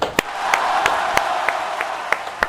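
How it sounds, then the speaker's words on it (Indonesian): Scattered hand claps at a school taekwondo athlete interview at SMANSA Rembang, sharp evenly spaced slaps over a steady hiss of room noise, moderately loud and close. "beri tepuk tangan"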